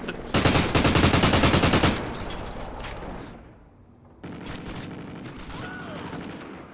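Dense automatic gunfire in Call of Duty Ghosts multiplayer, a loud, rapid stream of shots for a couple of seconds, then a quieter pause and more distant shooting, with a player shouting over it.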